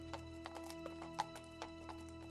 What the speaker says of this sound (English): Excuse us, horses coming through. Horses on set.